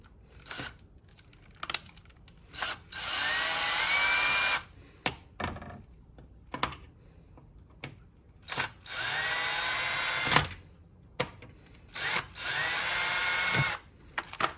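A Ryobi cordless drill whirs in repeated bursts of a few seconds each while dismantling a shelf, with clicks, taps and handling noises of screws and wood in between.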